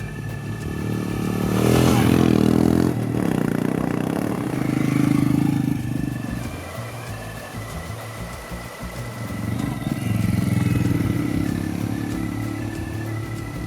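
A Royal Enfield Himalayan motorcycle ridden on a dirt trail, its single-cylinder engine thumping loudly and rising and falling with the throttle, with gravelly clatter and scraping from the rough ground and no talking.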